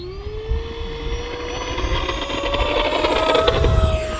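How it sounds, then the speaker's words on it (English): Arrows F86 Sabre RC jet with half flaps accelerating on its takeoff run, a steady ducted-fan whine rising in pitch and growing louder over about four seconds, with no voices. "Abby, let's go half flaps on this, and I'm ready for takeoff"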